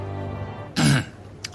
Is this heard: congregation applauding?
no